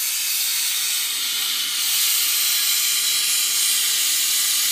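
Loud steady roaring hiss of a torch flame melting recycled silver for a wedding ring, continuous and close with no talking.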